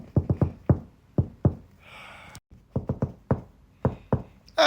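Knocking on a door comes in loud, close bursts of several raps, a quick cluster of four, then pairs and singles, with a short hiss in the middle and a brief gap before more knocks.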